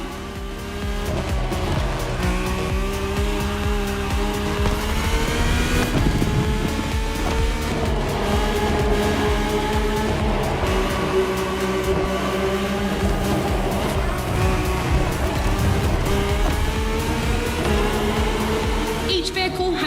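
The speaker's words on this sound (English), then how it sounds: "The rally car has already changed its course to reach the dirt." Rally cars racing head-to-head toward dirt, a loud continuous engine roar with rising and falling revs and shifting pitch, dense and up close, with tire noise mixed in and no talking.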